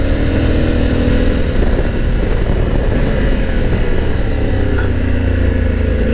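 A 2020 Honda Africa Twin DCT motorcycle ridden on Swiss mountain passes, its engine giving a loud, steady, close drone with wind noise and no pauses.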